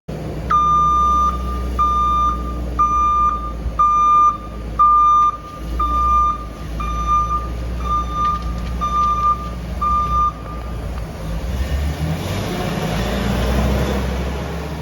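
A garbage pickup truck backs up outside a condo building, its reversing alarm beeping in a regular series of about ten tones over a low engine rumble before the beeps stop and the truck keeps idling.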